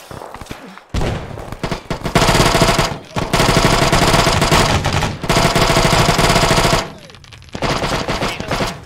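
Machine gun fire in a military video game battle, loud sustained automatic bursts separated by brief gaps, close and dense.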